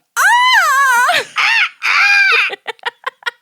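A person imitates a seagull with loud wavering squawks and cries, followed by a quick series of short choppy yelps.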